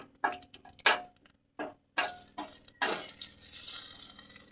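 Cumin seeds and two bay leaves dropped into hot oil for a no-onion, no-garlic raw banana curry, giving sharp spluttering crackles in short bursts separated by brief silences, then a longer close sizzle, with no voices.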